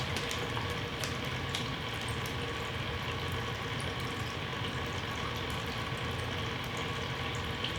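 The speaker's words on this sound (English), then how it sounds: "I got the circulation pump going" A circulation pump churns and mixes water in a seed-starting brew container, giving a steady, dense bubbling wash of liquid noise with faint splashy ticks and no talk.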